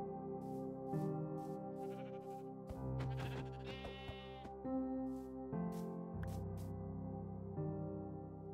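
Minecraft sheep bleat repeatedly, one wavering bleat after another, close and clear. No talk is heard over them.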